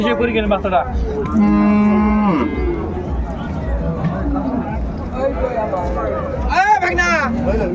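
Cattle at a rural livestock market in Dinajpur, a dairy cow with her calf, moo loudly several times, long drawn-out calls close by over a steady background of crowd chatter and people talking.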